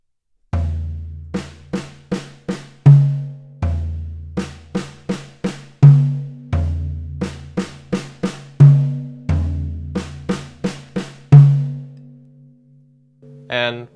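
Drum fill played slowly and repeated several times, a floor tom stroke, then diddles on the snare and a hit on the rack tom, crisp close strikes in a steady rhythmic pattern.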